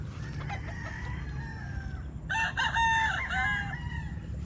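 Chickens cluck under a rooster's crowing at a rainy-season backyard flock, the crow rising loud and close midway through over a steady low rumble of background noise.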